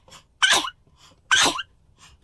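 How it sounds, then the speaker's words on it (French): Two sharp, breathy bursts from a person, each a sudden loud sneeze-like expulsion about a second apart, close to the microphone with quiet breathing between and a third starting at the end. "Je vais éternuer."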